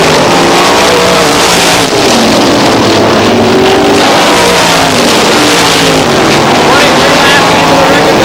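Race cars roaring past at Star Speedway, a loud, dense engine drone filling the whole stretch with rising and falling revs as the pack goes by, a commentator talking over it.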